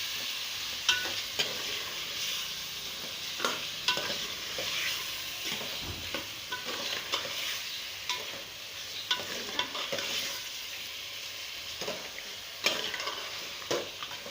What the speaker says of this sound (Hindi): इसमें शामिल कर दिया अदरक लहसुन का पेस्ट और इसको भी हमने अच्छी तरीके से भूनना है